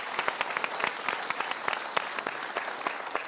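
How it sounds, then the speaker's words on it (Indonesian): Indonesian TV talk-show studio audience breaking into steady, dense applause, many hands clapping at close range with sharp individual claps poking through for a few seconds. "Kita berikan tepuk tangan untuk dua orang ini."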